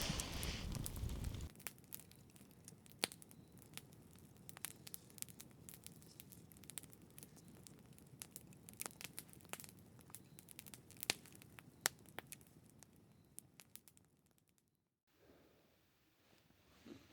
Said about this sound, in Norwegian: Litt knitring fra bålet ved siden av liggeplassen.